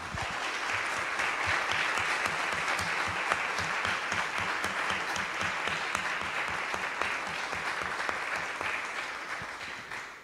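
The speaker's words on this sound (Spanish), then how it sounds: "Te despedimos con un aplauso." A room full of people claps steadily for a lecturer at the close of a university diploma class, a dense, sustained round of applause that holds for about ten seconds before tapering slightly at the end.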